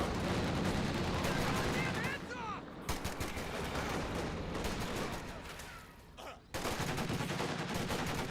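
Dense World War II gunfire and battle effects from the Company of Heroes 2 strategy game, with rifle and machine-gun bursts over a constant loud din that briefly dips twice, and faint speech-like game voices mixed in.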